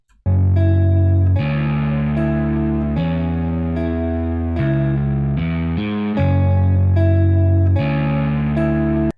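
Plucked synth notes, a deep bass line and guitar play together in a steady, effects-laden loop, loud and full, with no voices.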